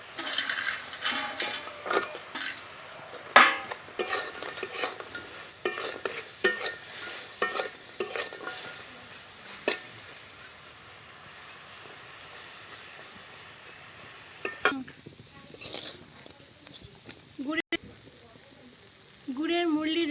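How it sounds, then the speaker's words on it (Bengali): Fried murli snacks stirred into cooked jaggery syrup in a pan, with irregular scraping, clattering stirs and soft sizzling bursts, quieter spells between, close and moderately loud. "গুড় পাক হয়ে গেছে, এবারে ভেজে রাখা মুরলিগুলো দিয়ে দেব।"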